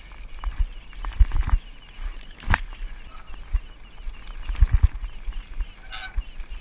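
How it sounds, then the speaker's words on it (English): Birds honk and call at a moderate distance amid scattered thumps and rustling footsteps outdoors, the honks irregular and intermittent. "the birds are following me"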